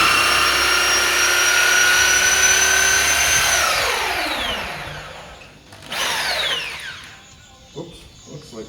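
A power drill bores through an apartment door for a deadbolt, whining steadily and loudly before winding down, then spins up briefly again, followed by some quieter handling noises.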